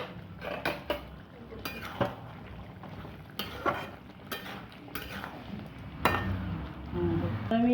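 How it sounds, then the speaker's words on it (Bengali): A lid is lifted off a cooking pot of Bengali yogurt taro root curry (doi ol kochu), giving a few sharp metallic clinks and clatters amid kitchen noise, with a person talking throughout. "আমি ঢাকনাটা উঠাচ্ছি।"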